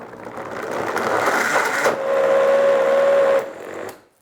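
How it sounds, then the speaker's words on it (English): A kitchen blender grinds dates, honey, molasses and Brazil nuts into a smooth paste for homemade granola, a loud steady whir with a rising pitch midway before it cuts off near the end. "We're going to turn on the blender and we're going to blend that until it's very smooth."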